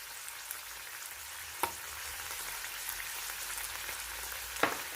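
Chicken breast strips frying in oil in a pan, a steady soft sizzle running throughout at moderate level, with a couple of sharp clicks or taps standing out near the middle and end.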